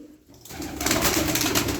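Pigeons coo and call close by, starting after a quiet moment and swelling into a dense, continuous burst of bird sound that stays loud to the end.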